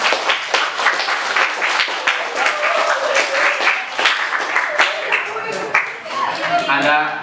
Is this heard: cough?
no